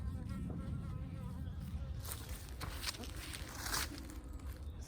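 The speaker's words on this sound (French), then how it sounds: "il y a une abeille" Honeybees buzz around a blue hive during an inspection in February, a close, continuous droning hum with individual bees swelling louder as they pass near.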